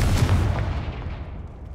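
A deep booming blast from the Confringo explosion spell in the video game Hogwarts Legacy, loud at first, with a heavy low rumble that decays over under two seconds.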